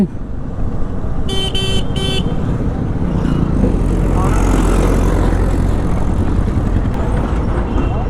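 Loud, dense road traffic roars continuously with car and motorbike engines, and a vehicle horn sounds in two short toots near the start.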